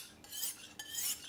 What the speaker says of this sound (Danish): Så sliber man egentlig bare bladet